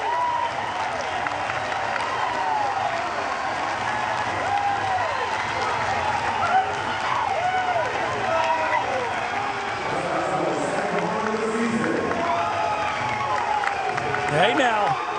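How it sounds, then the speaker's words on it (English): An LSU baseball crowd roars and cheers after a home run, a loud, sustained wash of stadium noise with a commentator talking over it throughout. "The LSU crowd making some noise early with one loud swing of the bat by Michael Braswell."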